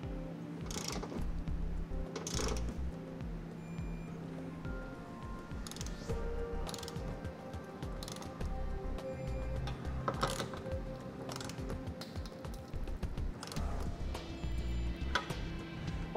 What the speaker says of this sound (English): Now we can go ahead and torque them down to the specifications in our instructions.